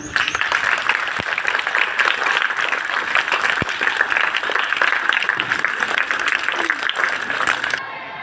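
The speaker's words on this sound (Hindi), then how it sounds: "तो एक बार तालियां बजाओ फिर।" An audience claps steadily and densely for several seconds, a loud sustained wash of hand claps that cuts off near the end.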